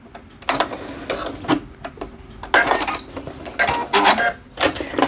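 Domestic sewing machine stitching and backstitching seams on a pair of joggers, heard as several short bursts of rapid mechanical whirring and clatter separated by brief pauses, close and fairly loud.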